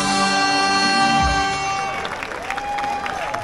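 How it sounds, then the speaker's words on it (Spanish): Applause from an audience at a Peruvian folk dance performance of Capitán y sus vasallos de Socomocho Huayllacayan, steady clapping rising over fading music and sustained tones, with a brief low thump midway and a tonal glide near the end. "Hermosa energía de aplausos."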